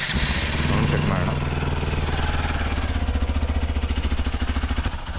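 A Hero Xpulse 200 4V motorcycle fitted with a performance air filter idles with a steady, rapid thumping beat, then is revved with a louder engine roar before settling back, close to the microphone.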